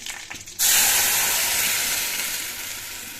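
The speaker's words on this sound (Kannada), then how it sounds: "ಇದೆಲ್ಲ ಹಾಕಿ ಕುದಿಸ್ತೀನಿ" A pot of tomato chutney erupts into a loud, bubbling hiss that starts abruptly and then slowly fades, close by, with no talking.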